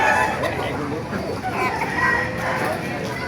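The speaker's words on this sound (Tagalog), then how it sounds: "Isang manok dito sa Baliwag, Bulacan, oh." Chickens clucking and a rooster calling amid a busy, noisy market background with people talking nearby, in Baliuag, Bulacan.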